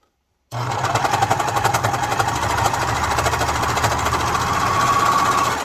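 A sewing machine stitching a child's shirt runs loud and close, a steady fast mechanical chatter that starts abruptly and continues without pause.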